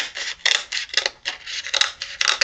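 Hand-trimming a molded R/C pod, with quick repeated rasping strokes in an uneven rhythm, close and fairly loud with no talking.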